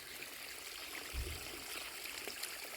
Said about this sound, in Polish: Woda wodociągowa prosto z sieci.